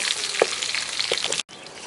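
A whole lump of real coconut palm sugar from Amphawa simmers and melts in a pan while the sauce for Isan-style stir-fried noodles is made, giving a steady close sizzle with small bubbling pops and no talking.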